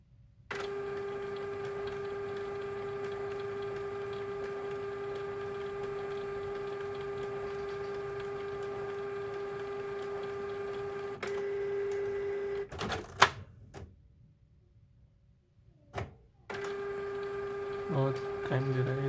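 A Canon inkjet printer resets itself after a new cartridge is inserted, giving a steady mechanical hum with a constant tone, then clicks and clunks, a short silence, and the whirring drone resuming, close by.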